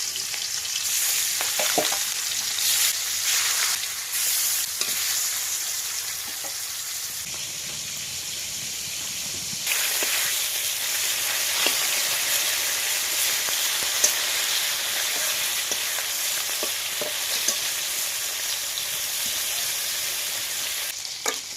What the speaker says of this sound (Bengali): দুই সাইডেই কিন্তু মাছ ভেজে নেবে